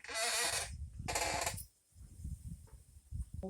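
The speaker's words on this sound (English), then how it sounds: "So I'm just going to hit it again and blow some air through it" Two loud bursts of compressed air hiss through a BMW R80RT steering head bearing, each lasting about half a second with a short gap between, followed by low handling knocks and faint bumps.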